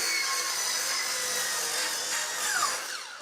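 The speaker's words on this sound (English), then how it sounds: "Let me show you what happens with the corded saw." A corded circular saw cuts through wood in a loud, steady, high-pitched whine that holds for about three seconds, then eases off slightly toward the end.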